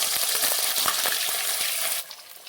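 Aloe vera pickle pieces stirred in a hot pan over a strong gas flame, a loud close sizzle with scraping clinks of the spoon that drops off abruptly near the end.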